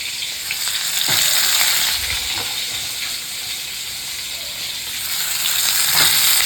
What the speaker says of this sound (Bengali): কালো জিরে ফোড়ন দিয়েছি দিয়ে আলু আর পটলটা বসিয়ে দিয়েছি একটু ভাজা ভাজা হবে